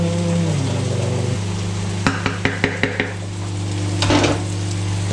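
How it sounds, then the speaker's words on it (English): Sticky BBQ stir-fry stirred and tossed in a hot pan: steady sizzling frying throughout, with a quick run of sharp utensil clacks against the pan midway and a brief louder scrape near the end. "Give that a stir."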